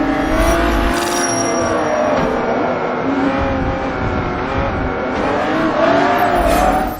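Race car engine in the Forza Motorsport 3 racing game, droning steadily with shifting revs and harmonic whine throughout, loud and continuous with brief swells near the end.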